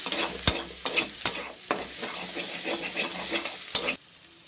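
Ginger paste is stirred into onion and garlic frying in oil, and it sizzles steadily while a spoon scrapes the pan in quick, sharp strokes up close. No one speaks.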